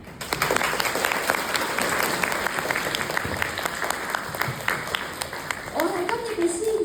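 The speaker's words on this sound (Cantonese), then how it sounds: "請同學以熱烈嘅掌聲為今年嘅中華文化日拉開序幕。" Students at a school burst into warm applause to open a Chinese Culture Day ceremony. The clapping of a large group is dense and sustained throughout, and voices rise faintly near the end.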